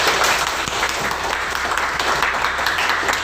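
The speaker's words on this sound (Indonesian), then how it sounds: "Tepuk tangan untuk video tadi." Classroom of students clapping after watching a video, producing a brief, steady round of close, bright applause from a small group.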